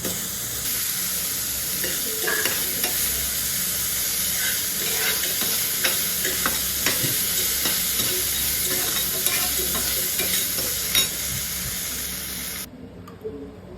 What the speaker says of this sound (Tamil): ஒரு தேங்காய் சில்லு போட்டு நல்லா வதக்கிடுவோம்.